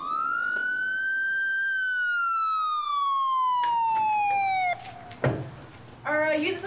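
An emergency vehicle siren wails in a long slow sweep, loud and close, then cuts off into a few short bursts and clicks with no talking.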